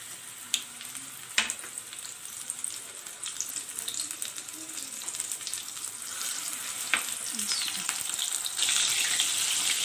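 Batter-coated masala fish pieces dropped into hot oil for a crispy winter fish fry, a steady frying hiss that builds toward the end with a few sharp clinks, no talking.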